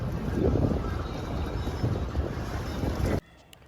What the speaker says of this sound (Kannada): boat house correct home stay ಥರ ಬೋಟ್ ಹೌಸ್